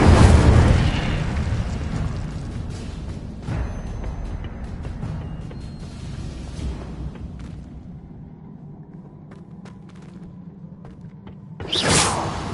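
The Incendio fire spell in Hogwarts Legacy bursts with a loud whooshing explosion of flame that decays into a rumbling crackle, followed later by another sharp burst.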